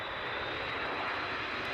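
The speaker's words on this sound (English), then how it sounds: "Is this a plane? Are we in a plane at the moment?" Airplane sound effect opening a music track: a steady, broad roar of aircraft engines, like being inside a cabin in flight, holding constant with no voices.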